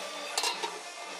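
A short burst of faint sizzling with soft scraping and light clinks as vegetables are stirred around in a hot frying pan.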